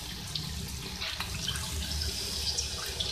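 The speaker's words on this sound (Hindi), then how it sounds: "इसमें मैंने 1 कप पानी ऐड किया है।" Water poured from a cup into a pan of chicken karahi, a steady splashing liquid pour running through the whole moment at moderate, close level with no talking.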